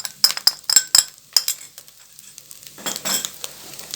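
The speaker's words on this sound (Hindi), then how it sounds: "1 मिनट तक तकरीबन भूनेंगे इसको धीमी आंच पे" Red chili powder and garam masala being stirred into hot oil over low heat, with sharp spoon clinks against the pan and a soft sizzle that rises briefly toward the end.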